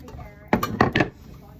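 Food for breakfast burritos dropped into a pan: three quick, close clattering thumps packed into about half a second, then quiet.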